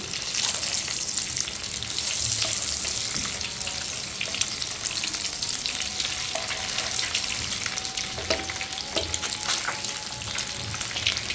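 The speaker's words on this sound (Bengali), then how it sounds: "আমি ডিমগুলো ভাজতে দিয়ে দিয়েছি" Eggs crackle and sizzle steadily in hot oil, a dense frying hiss with small pops and occasional faint clinks.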